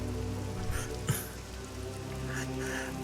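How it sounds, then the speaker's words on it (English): Steady downpour of rain pattering on surfaces around ancient stones, a dense, even hiss with occasional louder drops, moderately faint and continuous, no one speaking. "the rain is in the background noise."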